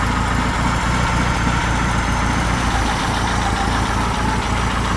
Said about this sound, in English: That's bottom idle right there.